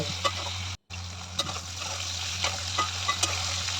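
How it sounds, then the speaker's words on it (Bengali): Winter vegetables fry in a pan with a little salt, giving a constant close sizzle broken by a brief silent gap and light scrapes of stirring. "এই পাশে ভেজে নিচ্ছি হালকা একটু লবণ দিয়ে"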